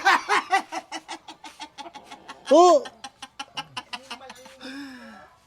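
Chickens cluck in a quick, steady run of short calls at close range, with a louder squawk in the middle and voices talking over them.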